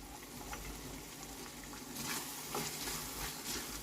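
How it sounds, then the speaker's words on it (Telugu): Chana dal going into a pan of ridge gourd curry, giving a steady soft sizzle and frying crackle with a slight swell of activity partway through, no voices. "ఇప్పుడు శనగపప్పు వేసేస్తున్నాను."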